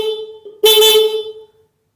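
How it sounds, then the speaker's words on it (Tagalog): A single short stock car horn honk, loud and close, preceded by a faint electrical tone and ending abruptly in silence. "Pag-passing, pag-press sa busina,"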